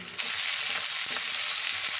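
Steady loud sizzling of chicken pieces frying in a pan for chilli chicken, starting abruptly and continuing throughout with a few faint clinks.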